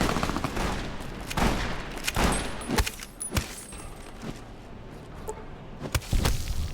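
Gunfire rings out in Fallout New Vegas, a series of scattered, sharp shots of varying loudness spread irregularly over several seconds, with clinking and game ambience between them.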